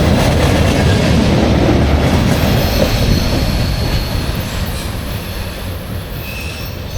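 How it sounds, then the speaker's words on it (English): A long freight train of about 60 or 70 coal cars rumbles past close by, a steady loud roar of rolling wagons with faint wheel squeal, easing slightly toward the end. "Catch that train while I'm down here"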